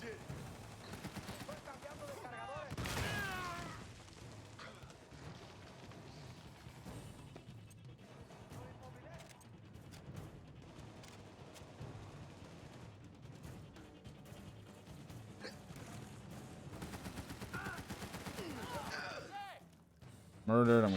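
Gunfire in the shooter game Army of Two: The Devil's Cartel, rapid bursts of automatic fire and scattered shots rattling steadily through a chaotic firefight.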